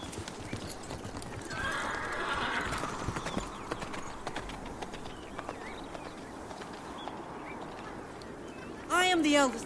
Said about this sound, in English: Hurry! Take my horse!